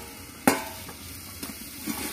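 A soybean and potato curry is stirred in a pan right after the lid comes off: one sharp scrape, then a few softer strokes over a faint background sizzle, close and unaccompanied by speech.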